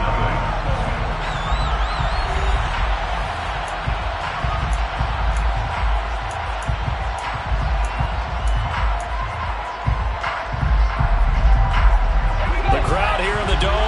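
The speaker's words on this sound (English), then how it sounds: "The crowd here in the Dome making things difficult." Roaring stadium crowd inside the Dome during a football video game, a steady wash of cheering and noise with occasional sharp thumps, running beneath continuous commentator talk.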